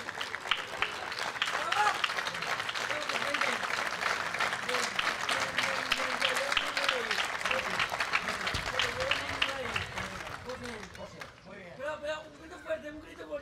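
Sustained, loud audience applause fills a political rally for the Valencian party Compromís, a dense wall of clapping with cheers that thins near the end as a voice begins to speak.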